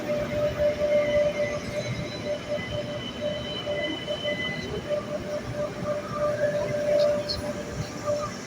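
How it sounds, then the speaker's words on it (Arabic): A new electric train pulls into its terminal station in Badr City with a continuous rumbling rail roar and a faint high squeal from the wheels, while muffled voices carry underneath. "نحن الآن في المحطة النهائية. فندم. هذه هي المحطة النهائية للقطار."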